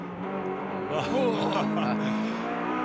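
BNR32 Nissan Skyline GT-R race cars braking and racing at the Eastern Creek circuit during a 1992 touring car round, a steady engine roar running under a commentator's continuous talk.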